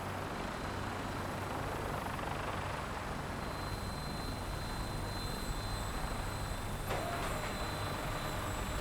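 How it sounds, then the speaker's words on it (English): Vertibird aircraft in flight in the video game Fallout 4, a steady, loud rotor and engine drone filling the whole stretch with no break and no voices. "ready for another cinematic vertibird flight?"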